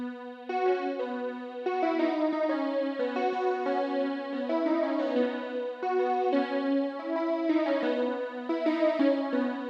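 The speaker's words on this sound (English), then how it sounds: "I went for a lead called Gaseous Lead, and it sounds like this." Gaseous Lead, a stock synth lead patch from Logic Alchemy, playing a smooth melodic line of sustained, bright, slightly airy notes, clean and upfront with no voices.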